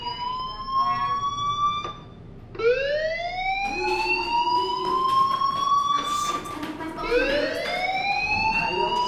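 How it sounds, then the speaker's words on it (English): A fire alarm in the video game Life Is Strange wails in repeated rising electronic sweeps, loud and continuous, with a short gap before the tone climbs again. "Hey, do you hear that fire alarm?"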